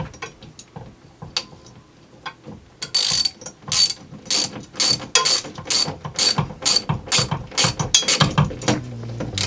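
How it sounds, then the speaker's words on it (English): A hand ratchet drives a lag bolt through a wall-mounted bracket for a second model railroad deck, giving rapid, loud, close pawl clicks in bursts, starting sparse and quickening into steady cranking. "we're going to just get the ratchet out and put it right through that bracket mounted to the wall"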